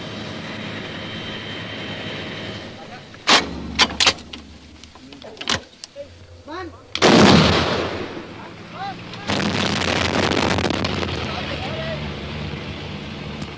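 Artillery fire in a Vietnam War setting: several sharp, loud blasts in quick succession, then a heavy roaring burst and a long stretch of sustained rumbling bombardment.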